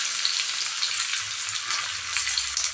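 Onion pieces and tempering seeds fry in hot oil for a yellow cucumber chutney, giving a steady, dense sizzle with fine crackling pops close by, without talk.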